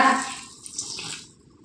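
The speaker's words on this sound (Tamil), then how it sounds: "அது கூடவே 1/4 கப்பு தண்ணி சேர்த்துக்கோங்க" Water is poured into gram flour batter with vegetables and garam masala for an eggless omelette, a short close pour that runs over a second and a half and then fades, with no talking.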